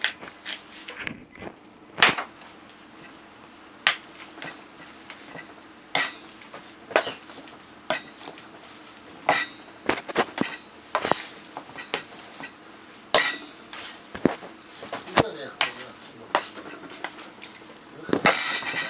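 Cooked sweet potatoes being mashed in a pot with fried onions, salt and pepper: a series of irregular, fairly close thuds and scrapes of the masher against the pot, with short quiet gaps between strikes and no talk.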